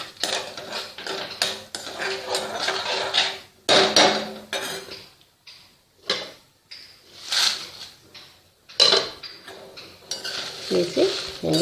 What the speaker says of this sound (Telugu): ఎండుమిర్చి వేసి 2 నిమిషాలు బాగా వేయించుకోవాలి.